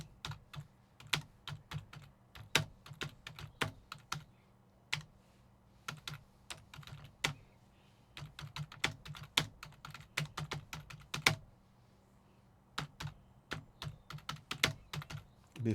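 Keys clatter on a computer keyboard in steady bursts with short pauses as a written reply is typed, close and fairly quiet, with no talking.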